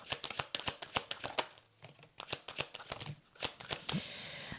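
Tarot cards being shuffled up close, a rapid run of crisp riffling flicks and slaps with brief pauses, ending in a smoother flutter, no talk over it.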